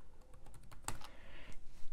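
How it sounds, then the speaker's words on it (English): Computer keyboard typing in quick bursts of soft clicks, one sharper key strike standing out, close and fairly quiet with no voices. "So I'm going to click T on my keyboard again."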